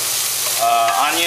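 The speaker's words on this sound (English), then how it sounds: "celery that I'm frying in a little bit of olive oil." Chopped shallots, onions and celery sizzle and hiss steadily in a little olive oil in a pan, a bright continuous frying sound heard up close.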